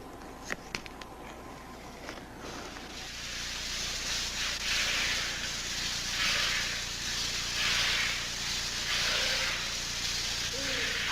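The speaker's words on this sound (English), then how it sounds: "High-pressure sprays are used to stimulate the body" High-pressure spray jets aimed at the body in a spa-style treatment, a broad, steady hiss that rises after a few seconds and continues evenly, close and fairly loud with no talk.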